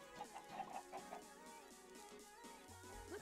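Minecraft chickens cluck in a quick series of short, faint bird calls, repeating over a quiet game background.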